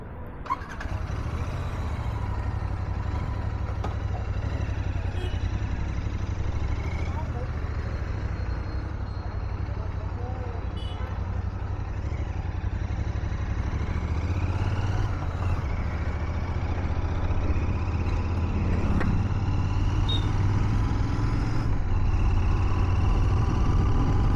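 A Royal Enfield Continental GT 650 motorcycle ridden through Bangalore city traffic, a steady low engine drone with wind and road rumble running continuously throughout, close and loud.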